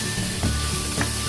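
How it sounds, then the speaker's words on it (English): Finely diced tomatoes added to cooked onion, garlic and ginger, sizzling loudly and steadily in the pan, with a few soft scraping stirs passing through the constant hiss. "Now that the onion, the garlic, and ginger has cooked, we're going to add finely diced tomatoes."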